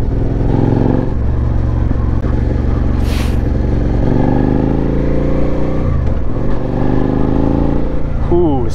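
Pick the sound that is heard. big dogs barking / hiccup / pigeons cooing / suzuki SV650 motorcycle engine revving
suzuki SV650 motorcycle engine revving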